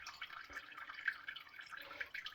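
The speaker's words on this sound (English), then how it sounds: "Let's run the water out in the fish tank" Water running out of a 33-gallon community fish tank during cleaning, a faint steady trickle with scattered drips, close and quiet with no talking.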